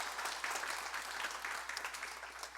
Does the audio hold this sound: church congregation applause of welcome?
yes